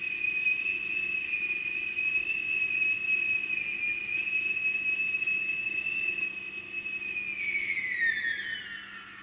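A steady, piercing two-tone whistle holds for several seconds, then slides downward in pitch as it fades, with a low rumble underneath.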